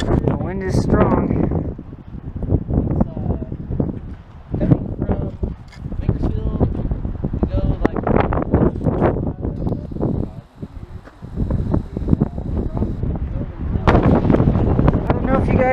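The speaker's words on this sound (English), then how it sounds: "I don't know if you guys can hear me over the wind, but it's very, very strong wind" Strong gusting wind roars across a microphone on a mountain peak, rising and falling in heavy buffets while a person talks through it.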